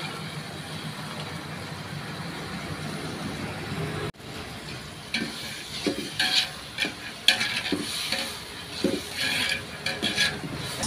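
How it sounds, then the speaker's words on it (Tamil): Chopped carrots being sautéed for vegetable biryani, a soft background hum giving way to a close sizzle with irregular scraping and stirring clatter of a spoon in the pan, no talking. "கேரட் கட் பண்ணி வச்சது கேரட் போட்டுக்கலாம்."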